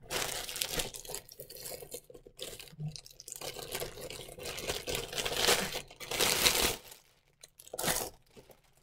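Crinkly plastic packaging from an online clothing order is handled close by, with continuous rustling and crackling bursts rising and falling for several seconds and no talking.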